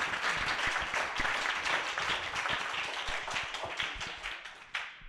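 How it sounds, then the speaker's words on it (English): A panel audience claps steadily at a peace and social impact event, dense even applause that thins and fades toward the end with a few final claps. "So one last round of applause for it."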